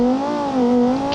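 A video game car's engine revs as it accelerates, a loud, close, steady tone that wavers slightly in pitch over about a second, with no voices.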